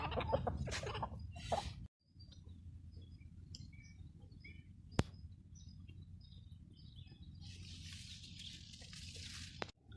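Scattered clucks and short bird calls over a steady low rumble of outdoor background noise, with a brief sharp click midway and brighter chirping near the end.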